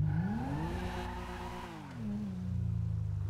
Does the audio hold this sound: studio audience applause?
no